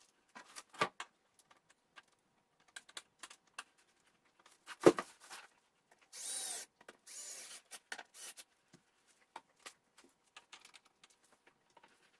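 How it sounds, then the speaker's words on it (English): Fins being mounted on a new board with tools: sparse, faint clicks, taps and scrapes at irregular intervals, with a sharper knock midway and two short bursts of a whirring or sliding noise. "here I am mounting up the fins"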